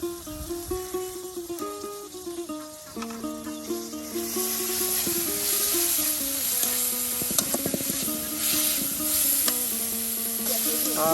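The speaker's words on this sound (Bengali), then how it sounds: "এই যে মশলা বাটা মশলা তার সাথে যে পেঁয়াজ কুচি একদম ভালো করে তেলের সাথে যে ভেজে নেওয়া হচ্ছে" Ground spice paste and chopped onion fry in oil with a soft hissing sizzle and stirring scrapes, set under steady melodic music with a prominent tune.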